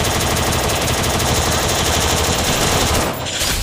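Rapid automatic gunfire from a game weapon in the Free Fire shooter, a loud continuous burst of shots that holds steady for about three seconds before breaking briefly and then resuming.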